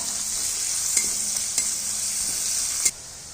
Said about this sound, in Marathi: मध्यम गॅसवरती कांदा हा छान परतून घ्यायचा